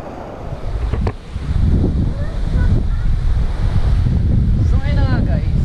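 Waves and gusting wind at Longdong Rock Beach in Keelung, Taiwan, a rocky shore: loud, continuous surf wash and wind buffeting the microphone, with a brief whistle-like sweep near the end.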